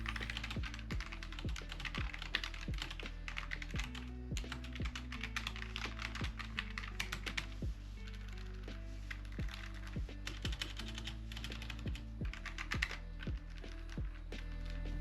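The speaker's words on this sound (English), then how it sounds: "I have the linear keyboard here, so let's quickly listen to it for a sound test." Steady, rapid typing on a Logitech G915 TKL wireless linear-switch mechanical keyboard, with dense clacking keystrokes and deeper thocks from larger keys, close and continuous with no talking.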